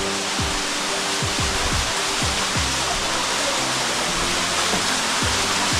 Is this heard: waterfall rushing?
yes